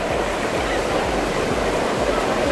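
Big ocean waves crashing on a Dominican Republic beach, a continuous loud roar of surf and churning water filling the scene with steady broadband noise and no distinct pauses.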